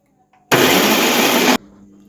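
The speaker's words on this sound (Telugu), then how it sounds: "మిక్సీ పట్టుకోవాలి." A mixer grinder blitzes garlic cloves with salt in its jar, a loud whirring burst that lasts about a second and cuts off abruptly, with quiet room sound before and after.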